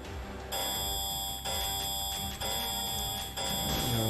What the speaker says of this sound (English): I can hear the buzzer